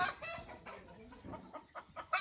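Chickens cluck in short, uneven bursts at a distance, quiet over a soft background of rustling.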